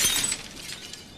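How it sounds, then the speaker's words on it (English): A stylish glass coffee table shatters after being hurled off a 20-story building, a sharp burst of breaking glass followed by a trailing tinkle of shards, loud at first and fading over about a second. "Now a stylish glass coffee table."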